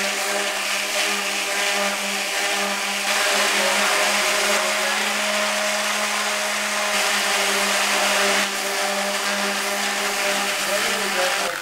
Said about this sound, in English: I'm going to sand my breadboard.